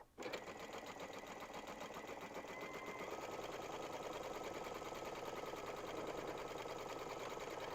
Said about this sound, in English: and we'll sew this one down